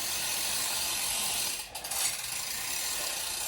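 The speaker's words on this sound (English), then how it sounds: "So we'll get these pedals on." Pedals are fitted onto a 2008 Klein Q Elite road bike, made by Trek, with a steady fine ratcheting click running throughout and a brief dip and scrape midway, close by and moderately loud.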